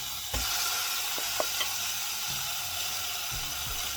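Steady sizzling of mutton frying in a pan for biryani, a continuous crackling hiss with a few soft clinks and stirring bumps, no voices.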